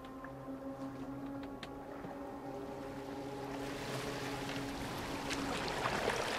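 Boat being steered in Assassin's Creed Valhalla, a faint steady hull hum with water wash and lapping that grows slightly fuller toward the end, no talk.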